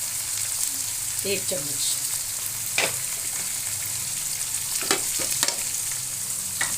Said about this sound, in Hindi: ये हमने इसमें कीमा डाल दिया और अब इसको अच्छी तरह हमने भूनना है